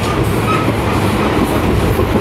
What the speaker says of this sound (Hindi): তো ট্রেনটা এখন ফুল গতিতে ছুটছে